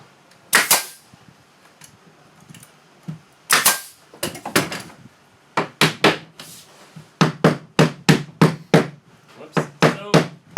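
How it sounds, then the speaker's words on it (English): Hammer tapping on wood siding boards during an installation demonstration: a run of sharp, close knocks, scattered at first and then settling into a quick, steady series of repeated taps, with no talking. "Baby taps, the hammer really is not going to hurt the siding."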